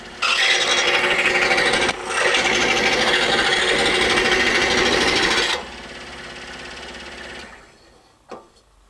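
A walnut bottle opener handle is cut out with a power tool, making a loud, steady rasping grind close up with one short break, then a quieter stretch and a single knock before it winds down.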